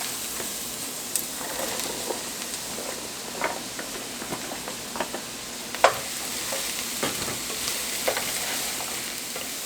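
Mushrooms sauté in butter in a pan for a steady, close sizzle, with scattered clicks and scrapes of stirring and one sharper knock near the middle.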